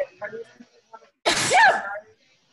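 A single sharp, loud sneeze bursts out close by, after some quiet murmured talk.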